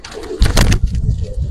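A female Giribaz pigeon of the Palla line coos in a short, close, loud burst at a show, with crowd noise around it.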